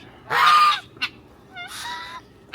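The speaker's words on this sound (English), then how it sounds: "that goose is going to follow me around screaming at me until I stop talking" A goose honks loudly nearby at a garden ranch: one long, harsh honk, a short squawk, then a second drawn-out, quieter honk.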